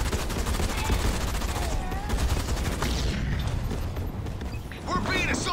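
Rapid turret gunfire from Halo Wars 2, a dense continuous stream of shots with mechanical clatter and battle noise throughout, loud and close, with brief whooshing effects.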